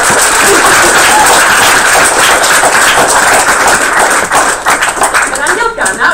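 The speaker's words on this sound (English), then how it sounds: "you can clap." Clapping closing a national assembly, loud close-up claps that thin out and turn sparse toward the end, with voices faintly mixed in.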